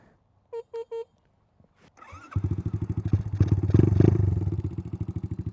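A Skyteam Dax motorcycle, repaired after a crash, starts up: three short electronic beeps, a starter catch, then the engine settles into a loud, close, steady thumping idle that swells slightly.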